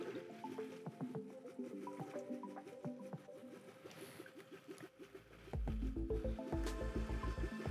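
A PS5 cooling monoblock filling with liquid, giving close, continuous gurgling, squishing and dripping water sounds with busy bursts throughout, getting louder and fuller near the end.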